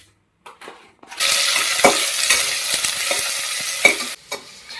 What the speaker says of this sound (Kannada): ಕರಿಬೇವು, ಈರುಳ್ಳಿ, ಟೊಮೊಟೊ ಒಗ್ಗರಣೆ ಮಾಡಿ